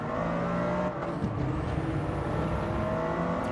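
Toyota Corolla GR race cars in a racing video game at Catalunya drone steadily, a dense layered engine whine from a pack of six with shifting pitch and a brief dip near the start.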